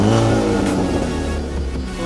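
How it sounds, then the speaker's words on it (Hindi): A used manual diesel car's engine revving close by, a loud rough rumble that surges and then settles toward a lower drone. "तो ये था ये गाड़ी का साउंड स्पेशल"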